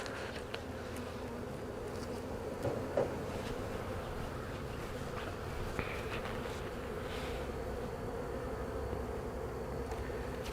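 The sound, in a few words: honey bees buzzing at hive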